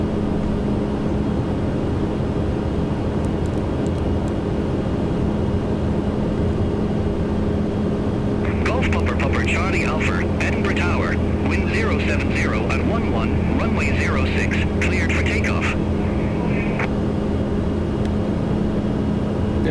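A Pilatus PC-12 turboprop spools up for takeoff in a flight simulator, a constant tonal engine drone with a low hum that swells midway, joined by clicks and crackling radio-like bursts.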